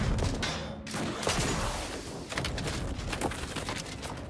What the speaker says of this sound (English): what were you shooting at, bro?